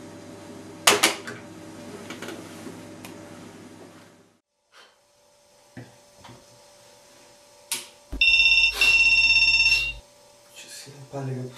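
A telephone rings in a tense scene from a Greek gangster film, with a short burst of bright, repeated ring tones standing out against quiet room noise after scattered thumps and movement.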